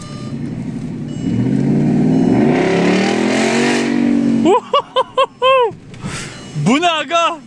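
A car's engine revs with rising and falling tones for several seconds, then people talk and exclaim over it.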